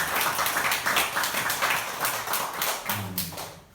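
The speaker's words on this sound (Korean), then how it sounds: "일어나서 박수 한번 받으세요." An audience at a lecture gathering applauds an elderly honoured guest who stands to be recognised: continuous, moderately loud crowd clapping with a choppy, uneven texture that persists throughout, and a brief low voice near the end.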